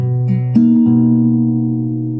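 A guitar chord is picked in a quicker pattern, a few plucked notes in close succession that then ring out and slowly fade.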